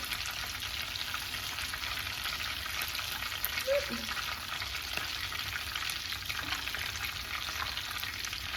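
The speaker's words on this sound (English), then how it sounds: "I'm just gonna keep cooking these, flipping them around until all sides of our tortilla are nice and fried" Chicken and cheese flautas frying in a pan of oil, a dense continuous crackling sizzle that stays loud and even, with a couple of soft turning sounds partway through.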